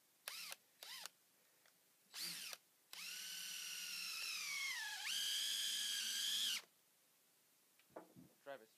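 Power drill driving a FastenMaster through-lock fastener through a block into a rim joist or post: a few short bursts, then a sustained whining spin that dips in pitch under load and rises again before stopping, close and loud.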